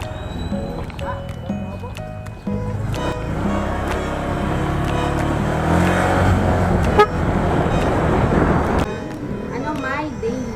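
Congested road traffic in Batangas, with a continuous rumble of vehicles, several short horn toots scattered throughout and people talking over it.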